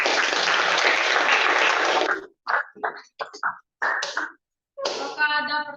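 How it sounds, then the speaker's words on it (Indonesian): Classroom applause after a student group's presentation: about two seconds of dense clapping that breaks off abruptly, followed by short speech fragments with silent gaps between them. "Tepuk tangan."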